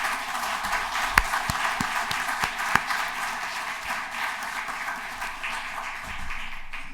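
A city council meeting audience breaks into a short round of applause, scattered hand claps with a few sharp close ones standing out over a room murmur, easing off toward the end.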